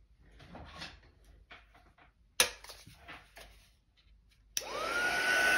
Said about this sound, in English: I'm gonna use my drying tool.